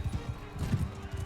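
Horse hooves clip-clopping in the Mount & Blade video game, a rapid irregular thudding gallop, fairly close and steady, with a few brief muffled bumps over a continuous low rumble.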